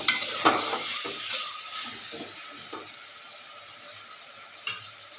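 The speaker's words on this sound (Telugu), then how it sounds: "మటన్ వేసేస్తున్నానండి. ½ కేజీ అండి మటన్ తెచ్చింది." Half a kilo of mutton sizzles and fries in a pan for gongura mutton, with several stirring scrapes and a few light clinks of a spoon against the pan over a steady hiss.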